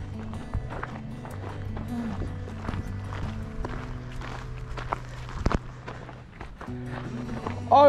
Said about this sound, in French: Oh, le cheval qui arrive au triple galop.